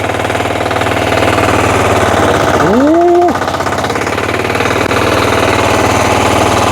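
A Motor Sich walk-behind tractor engine runs loud and close in gear, a steady rapid chugging throb with a brief rising whine as it revs up partway through.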